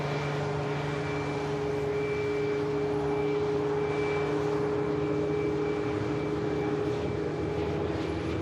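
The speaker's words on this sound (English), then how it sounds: "ATR on the departure roll now for Dublin" An ATR turboprop on its departure roll bound for Dublin hums steadily at moderate level, with tonal engine whine bands over a broad rumble and no voices.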